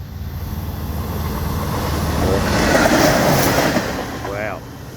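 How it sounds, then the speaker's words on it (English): A Frankston Doodlebug railcar in single-carriage form climbs the hill past the listener, its engine and wheels building to a loud, close rumble with rhythmic clatter before easing off. "that will be the Frankston Doodlebug going up and down the hill"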